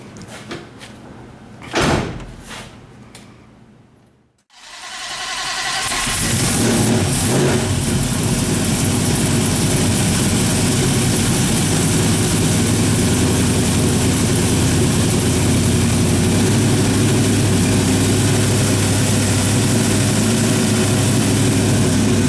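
A 1973 Plymouth Cuda project car: a few clunks and a brief crank, then the engine catches and settles into a loud, steady, rumbling run that continues to the end.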